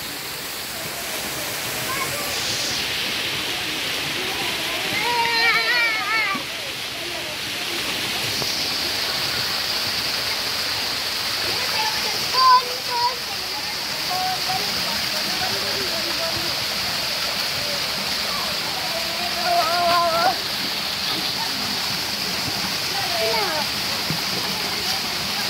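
Kawa Kawa Falls pours steadily with a constant rushing, splashing roar while children and adults talk and call out intermittently over the water noise.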